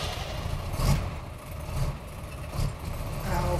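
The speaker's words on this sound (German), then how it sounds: "Lass die Motoren an." Electric motors of Bruder RC toy trucks, buggies and supersport cars run in a steady, low whirring rumble with slight surges in intensity. No voices are heard.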